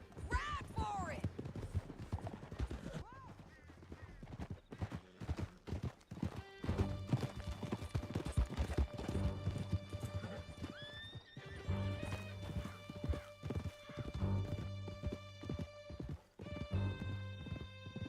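Horses gallop with steady clip-clop hoofbeats and neigh repeatedly in Red Dead Redemption 2, loud and close, over a dense mix of music and voices.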